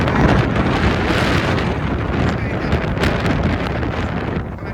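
A strong wind and rain storm roars steadily and loudly throughout, a dense, unbroken rush of gusting noise with no clear pauses.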